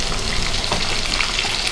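Beef chops fry in hot oil, a steady dense sizzle with crackling pops that runs without a break, close and fairly loud.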